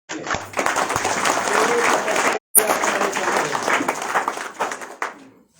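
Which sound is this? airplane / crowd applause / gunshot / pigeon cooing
crowd applause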